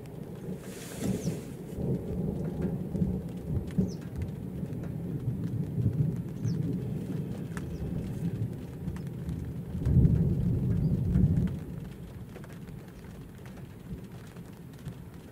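Steady rain from a May thunderstorm, with rolling thunder swelling near the start and again later. The sound is broad and continuous, and there is no talking.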